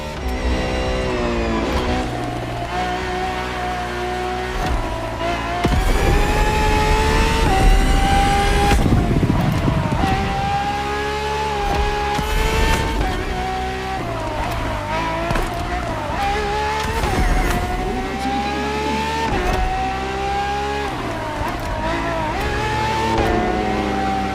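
Ferrari FXX K track car driven in The Crew Motorfest racing game, a continuous engine note rising and falling through gear changes with revving bursts and brief tire squeal, loud and close, with game music layered underneath.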